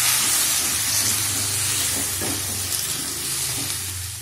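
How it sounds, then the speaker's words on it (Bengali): Spices fry with potato and eggplant in a pan, giving a steady, close sizzle and hiss with occasional stirring scrapes, continuous and without speech. "আলু বেগুনের সাথে মশলা আমি খুব ভালোভাবে কষিয়ে নিয়েছি"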